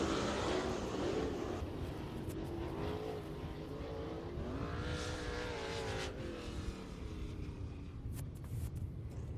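Race Saver sprint cars in a heat race roar past the flag stand at Eagle Raceway, a dirt track in Nebraska. Engine drone rises and falls continuously as the cars pass, with overlapping engine tones.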